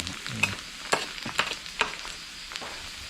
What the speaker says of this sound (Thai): เจียวหอมก่อน